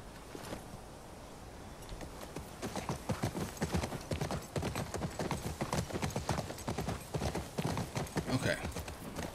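Rapid, rhythmic hoofbeats of a horse in the video game The Last of Us Part II, steady clip-clop at a trot that grows slightly louder and busier toward the end, with faint talk underneath.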